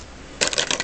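Small homemade resin blanks tossed into a container, giving a sudden close clatter of little hard pieces that rattle and settle for about half a second after a quiet start.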